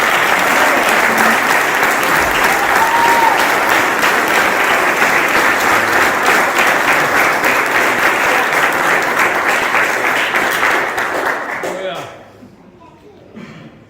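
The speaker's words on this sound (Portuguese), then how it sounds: "Vamos receber o pastor Cláudio aplaudindo bem forte" A large crowd at a church service in Portugal applauds loudly and continuously for about twelve seconds, then the clapping fades away quickly.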